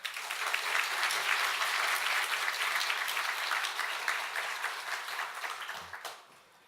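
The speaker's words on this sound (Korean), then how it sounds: "우리 큰 박수로 환영해 주시기 바랍니다" A church congregation at a Sunday service in Ulsan claps warmly to welcome a missionary: a sustained, full round of applause that holds steady, then tapers off and stops near the end.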